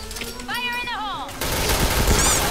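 Rapid gunfire from a Thai Point Blank online shooting game, bursts of shots loud and close with a burst of broadband noise in the second half, over a faint voice.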